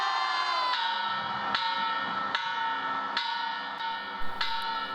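Carillon bells ring in a steady sequence of about six resonant strikes, each note ringing on into the next, with faint crowd noise behind.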